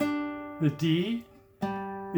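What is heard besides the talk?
None of the usual background noises is heard.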